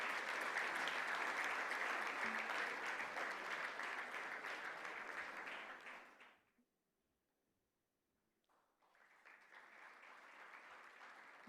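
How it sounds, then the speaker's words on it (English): Sustained applause from a seated audience at a gala dinner, steady and full for about six seconds, then dying away into a brief silence before a quieter, thinner round of clapping resumes. "we should give them a warmer applause."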